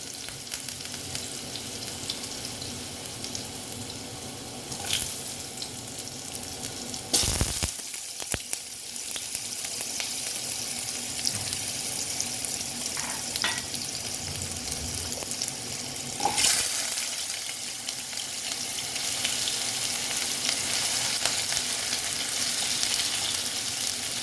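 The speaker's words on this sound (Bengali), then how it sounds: "তেলটা গরম হয়ে গেছে এখন আমি আলুগুলো দিয়ে দিচ্ছি আলুগুলো আমি ভেজে নেব" Potato pieces frying in hot oil in a wok for a vegetarian mung dal kalia, a steady dense sizzle running throughout with a couple of sharper bursts and clatters from stirring, no talking.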